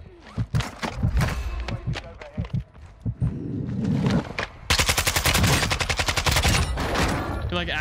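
ISO 9mm submachine gun in the Warzone 2 shooter, fired in scattered bursts at first, then a long rapid automatic stream of close, loud shots, with someone talking over the earlier part.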